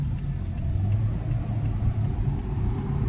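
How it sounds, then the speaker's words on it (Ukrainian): A car accelerates during a driving lesson on a town route in Brovary, a steady low engine rumble heard from inside the cabin that holds fairly even throughout. "Ми повинні там зараз вільно газку прискоримося"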